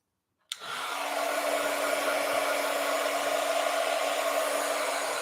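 A hair dryer starts abruptly and then runs as a steady, loud, continuous blow, drying paint splatters on a canvas with no talking.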